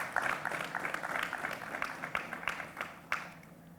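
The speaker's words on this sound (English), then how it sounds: "With a round of applause, let's welcome him" Audience applause welcoming the managing director of an Indian footwear company onto the stage at a retail business event, a quiet, steady patter of clapping that tails off near the end.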